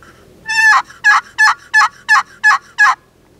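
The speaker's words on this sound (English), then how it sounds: "Probably the best tip for running box calls is simply learn how to do the basic yelp." A mini wooden box call produces a turkey yelp: seven clear, raspy notes in an even rhythm, the first drawn out and the rest short, close and loud against a quiet background.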